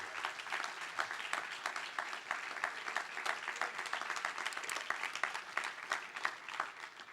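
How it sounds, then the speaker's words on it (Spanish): A church congregation claps to praise God during a sermon, the clapping sustained and fairly even, heard from some distance and quite faint. "¿Podemos aplaudir a Dios?"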